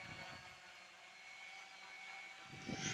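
An Ardupilot quadcopter drone with three-bladed props hovers at a distance, giving a faint, steady whine and hum that swells slightly toward the end.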